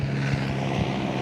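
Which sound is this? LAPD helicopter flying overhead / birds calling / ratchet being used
LAPD helicopter flying overhead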